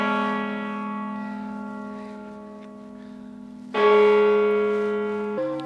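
Church bells tolling at noon in Liechtenstein, loud, resonant sustained tones that ring on, then a fresh stronger strike, and a further change of note near the end, with no talk.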